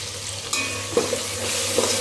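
Chicken pieces fry and get stirred in a hot pan with turmeric while a chicken biryani is being made, giving a constant close sizzle with a few soft scrapes and clinks of the spoon.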